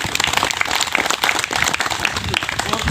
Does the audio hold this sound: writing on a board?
no